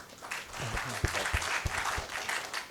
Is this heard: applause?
yes